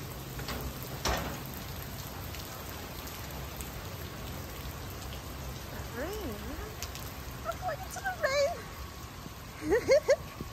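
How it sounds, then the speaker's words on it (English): Rain falls steadily on a street in Seoul, a soft continuous patter with a few sharper drips and splashes, while quiet talk and brief tonal sounds drift in the background. "It's raining."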